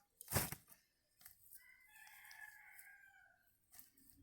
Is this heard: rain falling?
no